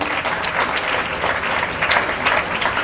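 Steady, dense applause from a sizable crowd, continuous and fairly loud throughout with no pauses.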